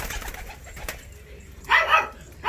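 Yellow Volski pigeons give a short burst of cooing near the end, close and fairly clear over quiet background rustle.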